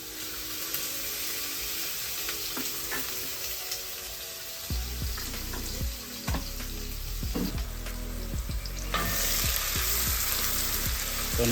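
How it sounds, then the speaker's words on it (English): Kienyeji greens fry in a pan with a steady sizzle, joined midway by louder crackling bursts and a few clinks of utensils, and no one talks. "I want to fry them"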